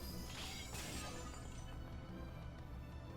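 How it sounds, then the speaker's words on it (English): Daggers shatter in Fate/hollow ataraxia with a sustained bright glassy crash that starts with a burst, swells again, then fades into a ringing, crumbling wash, heard alone. "The fangs are pulverized, shattering without a trace."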